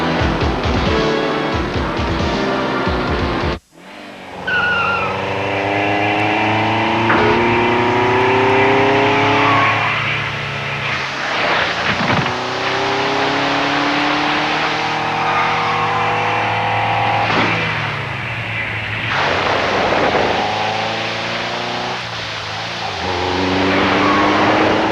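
ARCA Supercars stock cars in a 1992 race roar past loudly and continuously, engines revving and shifting with rising and falling pitch sweeps as several cars pass, briefly cut by a short gap early on.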